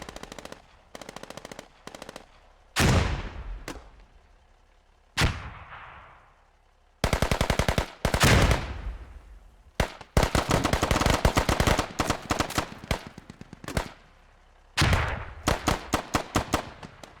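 Bursts of automatic gunfire in the military shooter game Squad, with rapid rattling volleys and single loud shots scattered across the stretch, some close and sharp, others shorter, separated by brief gaps.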